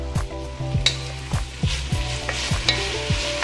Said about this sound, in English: I'm gonna drop that garlic in on top so it doesn't burn.